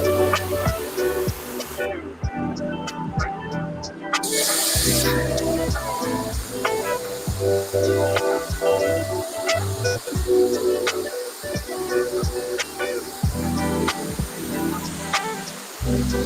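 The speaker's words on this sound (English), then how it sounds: "You got to spray the box and the vinyl itself, or whatever it is that you're wrapping." Contact adhesive is sprayed onto a subwoofer box and vinyl wrap for a 2020 Ford F150 underseat enclosure, heard as repeated close aerosol hissing bursts with clicks and handling noises in between.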